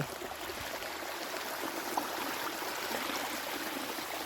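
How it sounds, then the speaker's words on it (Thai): Natural mountain stream flowing on a cold, misty hillside, giving a steady, even broadband rush of water that holds constant from start to finish, with no talking over it. "น้ำไหลจากธรรมชาติ"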